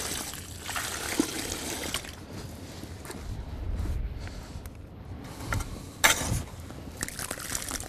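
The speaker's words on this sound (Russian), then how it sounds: "Теперь дали водички. Воду мы не жалеем." Water poured from a can onto soil around rose bushes in a spring garden bed, a soft trickling and splashing that comes in uneven bursts, fairly close and quiet, with a few louder splashes near the end.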